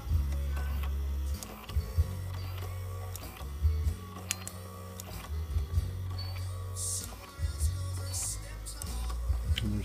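Small drive and positioning motors inside a Sansui SE-9 CompuEqualizer whir and grind in bursts, with mechanical ticks and clicks between runs, close and fairly steady, no speech.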